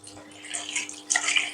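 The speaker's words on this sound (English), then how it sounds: "With hot water, just keep washing like so." Fish being washed by hand under hot running tap water in a kitchen sink, a steady rushing stream with splashy bursts, close and moderately loud.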